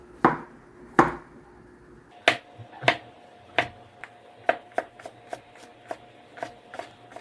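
A knife chops king oyster mushroom into small pieces on a board, starting with a few spaced strikes and then speeding into a quick, even run of crisp, close taps.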